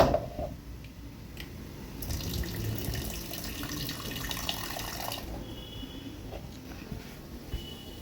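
Water runs from a kitchen tap while a simple boiled dish with egg is prepared, a steady close splashing stream that swells louder in the middle before settling back to a softer trickle.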